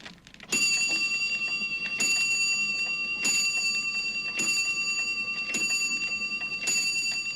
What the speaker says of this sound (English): ping went the shop's doorbell